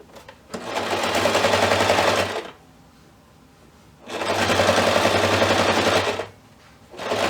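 A sewing machine stitching a seam on a quilt-as-you-go table runner, two steady rapid-needle runs of about two seconds each separated by a short pause, close and clear with no talk.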